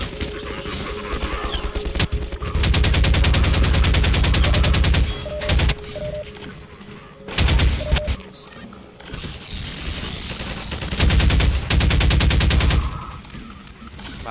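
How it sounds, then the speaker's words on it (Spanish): Bursts of rapid automatic machine gun fire in Half-Life 2 rattle in long sustained volleys, loud and dense, separated by brief quieter gaps with scattered shots and game noise. "con la ametralladora hacemos mejor"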